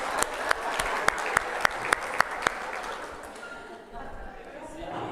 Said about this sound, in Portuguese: Palmas para a Adriana que retornou. Bate palma